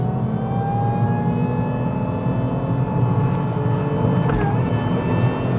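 A Lexus IS200 engine drones steadily from inside the cabin, its pitch slowly rising as the car accelerates, with road noise underneath.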